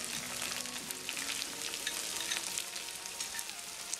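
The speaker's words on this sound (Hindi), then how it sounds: "इसे हल्का गोल्डन होने तक सॉटे करेंगे।" Onions and garlic sautéing in a pan, a dense continuous sizzle with soft stirring clinks, close and steady throughout with no voices.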